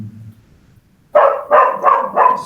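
During a phone call, after a quiet low murmur, a dog barks four times in steady succession, close and loud.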